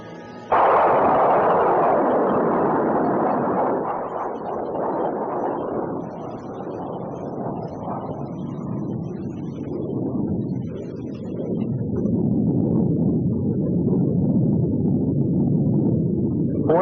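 A Cold War Hercules anti-aircraft missile launches with a sudden loud blast, then a long roaring rumble that slowly fades and deepens as it climbs away, with no voices.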